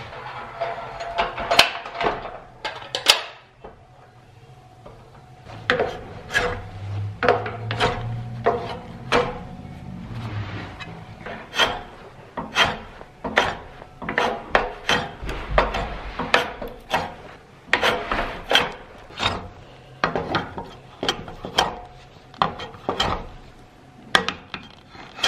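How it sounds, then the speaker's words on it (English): A hand planer shaving a wooden rake handle clamped in a vise, with a series of irregular sharp scraping strokes and knocks, some rapid and some spaced apart, close by and without talking. "this is a good chance to use my planer"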